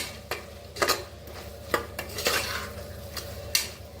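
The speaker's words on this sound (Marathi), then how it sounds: "आता छान मिक्स करून घेऊया बघा छान असा मसाला भाजून घ्यायचा" A spoon scrapes and clinks against a pan as masala with coriander powder is stirred and roasted for masala rice, giving irregular sharp knocks over a soft background hiss, close up with no voices.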